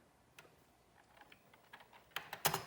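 Keys clatter on a Commodore 64 keyboard while a short BASIC program is typed, faint scattered clicks at first, then a quick run of louder, sharper keystrokes near the end.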